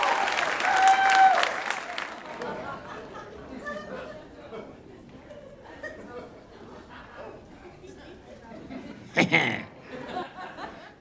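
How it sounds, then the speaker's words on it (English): Audience applause fills the room at a live stand-up comedy show, loud at first and then thinning into scattered clapping, chatter and laughter, with a brief burst of cheering late on. "please give a huge round of applause"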